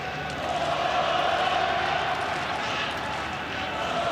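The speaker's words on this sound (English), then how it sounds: "Just listen to that crowd." Dense, continuous roar of a large football stadium crowd at a FIFA Arab Cup qualifier, Palestine versus Comoros, loud and sustained with a steady wash of voices and noise throughout.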